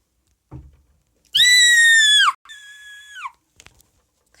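A high, piercing scream lasting about a second, followed by a shorter, quieter shrill shout, with a few soft knocks and thumps around them in an otherwise quiet room.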